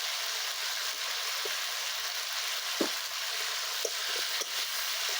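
Potatoes frying with turmeric and salt in a kadai in a Bengali home kitchen, a continuous sizzle broken by a few clinks and scrapes of stirring.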